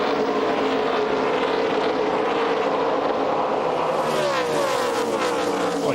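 NASCAR Craftsman Truck Series trucks accelerate hard at a green-flag restart at Texas, a loud continuous engine roar with rising pitch sweeps as the pack passes close by.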